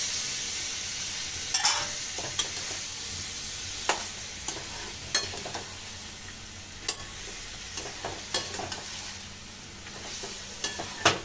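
Cauliflower added to a pan of peas, spices, chilli and water for phool gobhi masala, with a soft steady sizzle and scattered sharp clicks and scrapes of stirring, close and moderately quiet.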